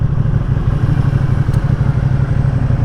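A 2020 Ducati Panigale V2 engine runs loud and close with a steady throbbing drone as it shifts with a quick shifter and no clutch.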